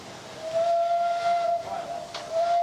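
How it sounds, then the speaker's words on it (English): A steam locomotive whistle sounds in a steady, sustained tone with a hissing steam background, loud and fairly close, with a short break partway through, at a railway open day with several steam whistles. "As you can hear all the steam whistles going on."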